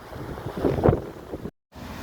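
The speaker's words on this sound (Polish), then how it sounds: "Rzeka Nysa Kłodzka w Byszczycy Kłodzkiej na chwilę obecną." Swollen Nysa Kłodzka river rushing in flood at Bystrzyca Kłodzka, a broad, steady roar of water close to the microphone with wind buffeting, briefly cutting out to silence before resuming.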